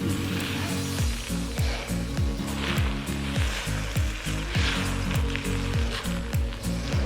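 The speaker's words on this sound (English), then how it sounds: "I've started frying off the bean sprouts" Bean sprouts sizzling and frying in a hot wok, a continuous loud crackling hiss with repeated rhythmic scraping and tossing sounds throughout.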